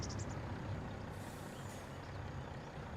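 Heavy trucks rumble steadily in Farming Simulator 25, with a loud low engine drone, a hiss of air brakes partway through and faint high beeps near the start, all close and continuous with no talk.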